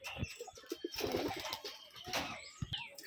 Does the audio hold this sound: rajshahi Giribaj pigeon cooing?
yes